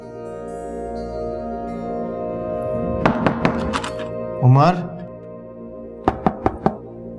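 Knocking on a wooden door in a drama series, with two short bursts of firm knocks, three then four raps, heard over background music while a man calls out in between.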